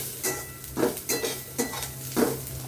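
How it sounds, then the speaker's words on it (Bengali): Onion and chili frying dry, without oil, in a pan, heard as a clattering scrape and stir of a utensil against the pan in four or five regular strokes, with a faint sizzle beneath. "পেঁয়াজ মরিচটা লাল লাল করে ভেজে নিব"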